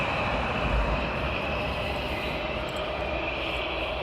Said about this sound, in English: We'll go quiet so you can listen to the engines as they start up.